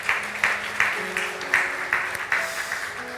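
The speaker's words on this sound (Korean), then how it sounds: "아까 권경숙 자매에게도 박수 한번 해주시죠." Church congregation at a joint worship service clapping in a steady rhythmic beat, about three claps a second, with a soft keyboard tone sustained underneath.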